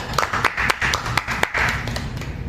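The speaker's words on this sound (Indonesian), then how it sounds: "Tepuk tangan untuk para panelis kita hari ini." Scattered applause from a seminar audience welcoming panelists at a university student discussion, short and uneven with distinct individual claps.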